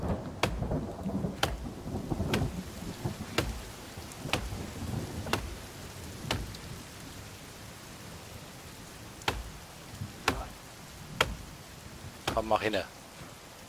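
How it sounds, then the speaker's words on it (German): Rain falling in The Forest video game, a steady hiss with repeated sharp thunder-like cracks roughly every second, moderately loud, with a brief spoken voice near the end. "Schon wieder Regen."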